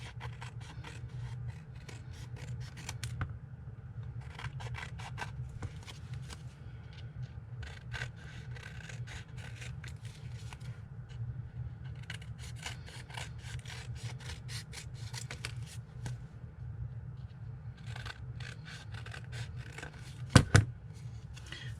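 Patchwork fabric pocket material for a traveller's notebook being trimmed, repeated soft rasping snips at close range over low steady background hum.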